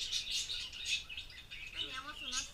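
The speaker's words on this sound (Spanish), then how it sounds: "pajaritos." Small birds chirp at a park in Ensenada, giving quick, high, repeated tweets and short trilled calls at moderate distance against soft outdoor background noise.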